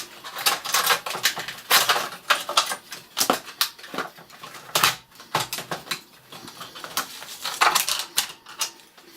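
Hands lift the keyboard out of a retro 1980s computer with dense clattering, plastic knocks and rattles, close and busy throughout, with no talking.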